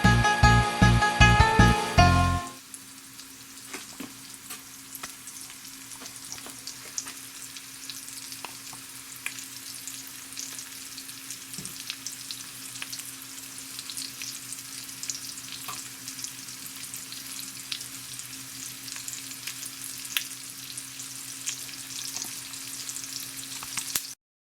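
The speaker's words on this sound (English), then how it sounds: "Put them in the frying pan, fry them with oil for about 3 minutes" Sweet potato and quinoa cakes fry in oil in a pan, giving a steady, close crackling sizzle that runs on alone after a brief loud burst at the start.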